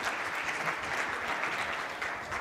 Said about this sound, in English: Big applause to Adrian.